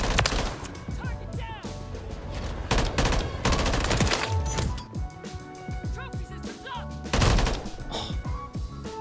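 Rapid bursts of Call of Duty gunfire crack through a busy multiplayer match, loud and near, with frequent shots and impacts over background game sounds, a voice talking now and then.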